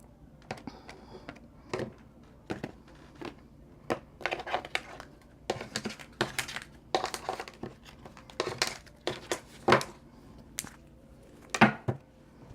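Tarot cards are cut and shuffled up close as a string of crisp, papery snaps and flicks in irregular bursts, fairly quiet, with no talking.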